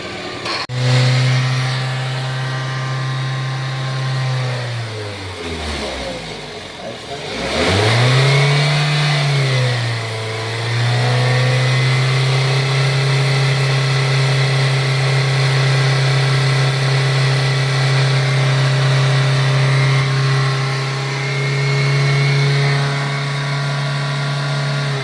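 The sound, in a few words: car engine running, warming up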